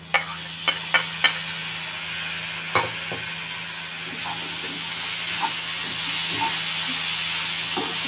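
Ridge gourds frying in a pan, a steady sizzle and hiss that swells gradually, opening with a few sharp clinks and taps of utensils against the pan.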